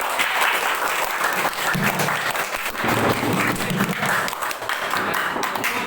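Students applaud in a classroom during a lesson: dense, continuous clapping from a group, fairly close, sustained for several seconds with irregular thumps.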